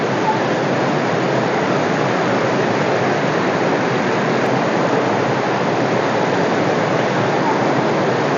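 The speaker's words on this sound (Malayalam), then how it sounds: "ആണ് ഇത് വെള്ളച്ചാട്ടം" The Kollengode waterfall roars as a steady, dense wash of falling water, loud and unbroken throughout with no distinct events.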